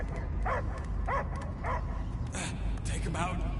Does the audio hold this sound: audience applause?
no